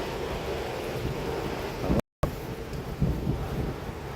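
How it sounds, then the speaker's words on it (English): Steady wind roars and buffets against the microphone in Stockbridge, Henry County, Georgia, under a severe thunderstorm watch, loud and continuous, with a brief cut in the middle. "It's pretty breezy. It's going to be windy all day today."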